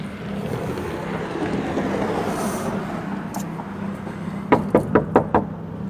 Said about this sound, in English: knocks on the door and rings the bell several times looking for his friend